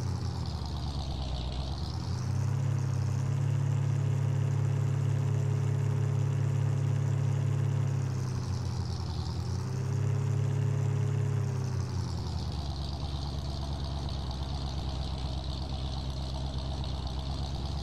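In Farming Simulator 19, an overloaded logging truck carrying logs rumbles steadily along rough roads. The low engine drone swells and eases twice as it works, continuous and close throughout.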